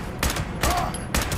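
Gunfire in the post-apocalyptic video game Fallout 76: three loud, sharp shots spaced roughly half a second apart, each with a brief crackling tail, heard without talk.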